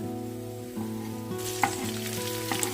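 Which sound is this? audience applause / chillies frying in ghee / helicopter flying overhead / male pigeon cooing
chillies frying in ghee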